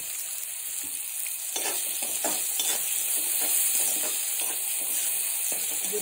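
Chopped tomatoes with salt fry in a pan, sizzling steadily up close while a spoon stirs and scrapes in repeated strokes.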